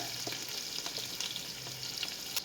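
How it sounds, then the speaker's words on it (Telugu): Onions frying in a pan for a fish pulusu, a faint, steady sizzle with light stirring scrapes running throughout, close by and with no talking. "ఇలా దూరగా ఏగినాక మనం ఉల్లిపాయలు వేసుకోవాలి"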